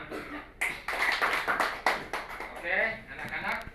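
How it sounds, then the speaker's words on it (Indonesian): Children in a classroom clapping hands together, a loose run of sharp claps at close range mixed with lively voices calling out over the clapping. "Tepuk tangan untuk kita."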